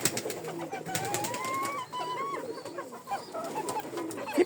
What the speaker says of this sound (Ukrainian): Там ще трошки зніму голубів, як буду кормити.